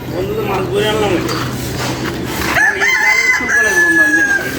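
A rooster crows loudly and close among clucking chickens at a busy morning winter market, with people talking throughout.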